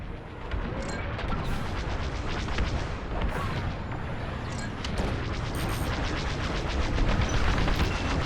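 Starfighter weapons fire during a Star Wars: Squadrons space battle, with rapid, dense blasts and booming impacts running continuously and loudly throughout, with no talk.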